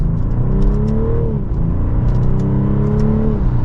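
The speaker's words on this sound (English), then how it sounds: "And with one last acceleration, here we go." A 2024 BMW 540i xDrive accelerating hard: a close, steady engine drone climbs in pitch, dips briefly at a shift, then rises again, with no voices over it.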